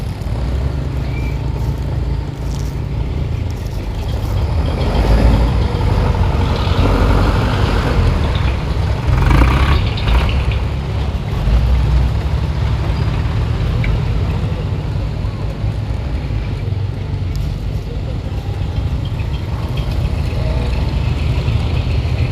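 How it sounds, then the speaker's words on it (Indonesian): Construction material hauling trucks pass on a road still being built, a loud continuous low rumble and roar of heavy engines with buffeting wind, steady throughout with slight swells. "masih tahap pembangunan, makanya banyak truk pengangkut material"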